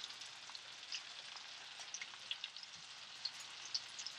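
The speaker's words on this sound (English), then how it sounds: "Now you're going to cook these for about 5 minutes until they all soften." White button, cremini and baby bella mushrooms frying in a pan for a shrimp and mushroom quinoa risotto, a quiet steady sizzle dotted with small pops and crackles.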